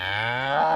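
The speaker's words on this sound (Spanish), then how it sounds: "Los bueyes y las vacas mugen." Cattle lowing in one long, loud moo, a rich harmonic bellow that swells slightly toward the end, heard close and alone.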